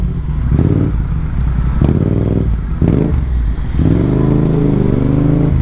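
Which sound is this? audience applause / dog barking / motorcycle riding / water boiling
motorcycle riding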